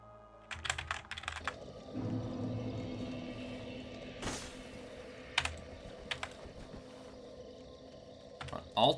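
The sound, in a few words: typing on a computer keyboard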